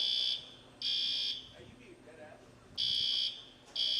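A fire alarm sounds inside a bowling alley during a tournament roll-off, its loud, steady electronic tone repeating in bursts of about half a second with short gaps, while a commentator talks underneath.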